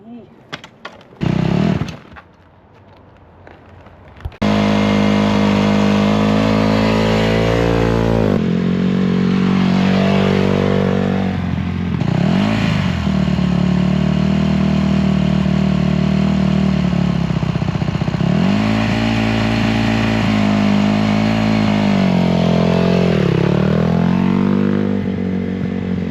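A motorcycle engine runs loud and steady as the bike rolls forward, its pitch rising and falling with throttle changes after a brief quieter start with talk.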